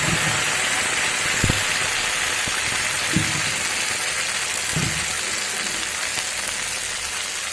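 Spice paste for a paneer curry hits hot tempering oil over a medium gas flame, producing a continuous broad sizzling hiss with a few soft knocks and clacks from the pan, and no voices.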